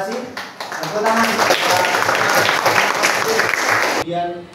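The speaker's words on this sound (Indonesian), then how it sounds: "Tepuk tangan." Audience applause breaks out in a school classroom lesson in Surabaya, a dense burst of clapping lasting about three seconds, framed by a voice speaking just before and after.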